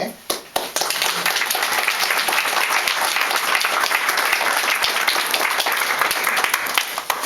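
Sustained applause from an audience at a book presentation in a bookshop, dense and steady clapping filling the room for several seconds after a brief start.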